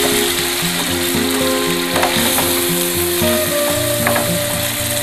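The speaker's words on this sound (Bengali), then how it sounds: "এবার আমি ম্যারিনেট করা চিকেনটা আমি এর মধ্যে দিয়ে দিচ্ছি" Marinated chicken fries in a pan for a chicken bharta, with a continuous close sizzle broken by quick, regular scraping strokes of a spatula against the pan.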